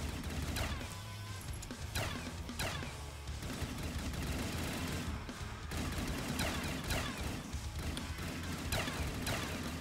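A minigun firing nonstop in Call of Duty Zombies, a dense, loud roar of rapid gunfire that runs through the whole stretch with barely any break.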